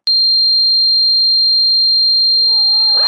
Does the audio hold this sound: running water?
no